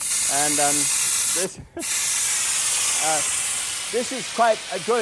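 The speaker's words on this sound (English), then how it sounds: "first thing then that I want to do here is to exhaust the steam that comes from this one." A pressure cooker cooking beans vents steam in a steady, loud hiss with a brief sharp burst partway through, while someone talks over it.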